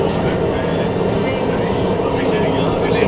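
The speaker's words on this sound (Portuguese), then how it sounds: "Agora nós mudamos de trem e estamos começando a subir." Steady loud rumble of a train climbing toward the Jungfrau near Interlaken, Switzerland, continuous rolling noise throughout with faint voices beneath.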